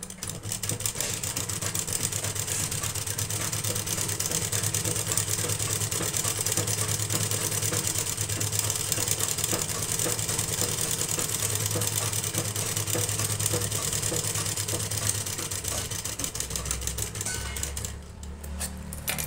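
A sewing machine stitching a double seam runs in a steady, fast mechanical chatter for most of the stretch, close and fairly loud, then stops near the end with no speech.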